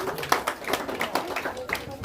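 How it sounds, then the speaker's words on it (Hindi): Scattered hand clapping from a small group of guests at an engagement ceremony, mixed with background voices and chatter for about two seconds. "ताली बजा दे आप लोग भी।"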